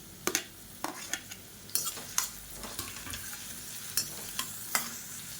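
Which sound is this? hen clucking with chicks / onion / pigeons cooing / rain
onion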